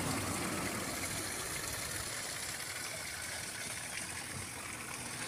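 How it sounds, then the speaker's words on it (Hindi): Steady broadband rush of a waterfall beside the road to Bhimtal, about 8 km below Nainital, continuous and fairly close, with a faint engine hum underneath. "ये देखो झरना"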